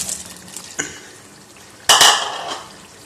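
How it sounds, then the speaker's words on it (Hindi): Red kidney beans cooking with tomatoes in a pot over high heat: a sharp metal clank from a utensil, then a louder scraping, clattering stir burst, close and with no talk. "हमने 5 से 6 मिनट इसको तेज़ आंच पे भून लिए।"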